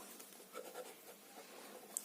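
Pen or marker writing during a Grade 7 maths lesson on triangle area, heard as soft, faint scratching strokes under a steady hiss, with no talking.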